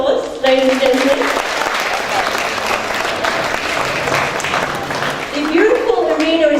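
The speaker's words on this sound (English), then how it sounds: "Give him a round of applause, ladies and gentlemen." An audience on a cruise ship applauds a volunteer brought forward from the crowd, a steady wash of clapping that runs the whole time while a voice speaks over it at the start and end.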